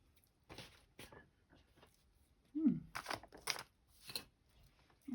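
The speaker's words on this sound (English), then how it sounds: "Scissors." Scissors cutting paper while flower fairy ephemera is made; several short, quiet snips and crisp paper rustles come in uneven bursts, close to the mic and separated by near silence.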